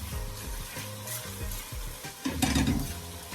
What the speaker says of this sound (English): Add my peppers in now. A stir again.